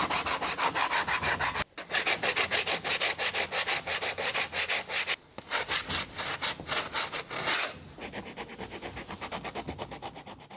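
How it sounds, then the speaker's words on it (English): Hardened filler on a fibreglass composite pattern for a carbon-fibre airbox is hand sanded in steady, rhythmic back-and-forth strokes. The loud rasping runs continuously, with two brief pauses. "we're going to just lightly sand any high spots off the surface of the pattern"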